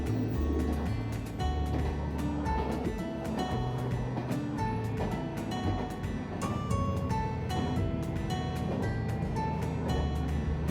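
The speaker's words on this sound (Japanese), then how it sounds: "うずしおのディーゼル音が車内に響き、トンネルへ吸い込まれていきました" Diesel engine of the Uzushio express train droning steadily from inside the passenger car on the Kōtoku Line climb over Ōsaka Pass, a continuous low rumble with rhythmic clicks layered on top.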